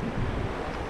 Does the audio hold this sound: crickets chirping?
no